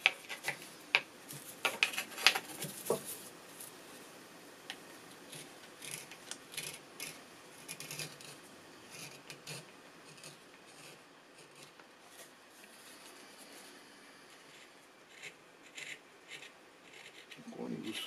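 A blade shaves the rim edge of a walnut wood spoon, producing quiet, close, scratchy strokes in short irregular bursts, busier at first and then sparser.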